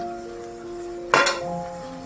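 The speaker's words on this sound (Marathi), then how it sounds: "झाकण काढते मी" A metal lid is lifted off a pot of fenugreek-leaf methi bhaji cooking without water, giving one short, close metallic clink over a quiet kitchen background.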